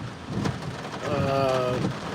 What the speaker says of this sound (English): It's been very rainy.